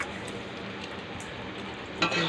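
Quiet sizzling as roasted spices and salt are stirred into a pea curry in a pan, a spatula scraping, a soft continuous hiss and a clink near the end.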